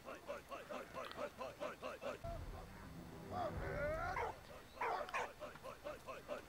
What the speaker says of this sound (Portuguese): Vem cá, cachorro.